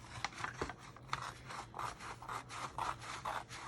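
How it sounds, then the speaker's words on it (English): Scissors trim paper for a 5x6 recipe mini album in a run of quick, close snips and rasping cuts in an uneven rhythm, quiet and alone. "I'm going to use my scissors, and I'm just going to trim it off"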